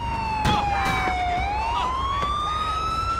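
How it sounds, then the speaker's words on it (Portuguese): Ambulance siren from the video game GTA wails in a steady rising and falling tone across the whole stretch, loud and close, with a few sharp thumps and road noise underneath. "Sim, a ambulância do GTA, né?"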